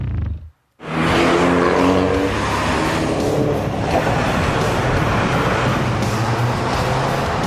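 A Mini John Cooper Works Coupe with a 1.6-litre 208-horsepower engine accelerates hard after a brief silence, a loud close engine roar with rising gear pulls and broadband rushing noise sustained over several seconds.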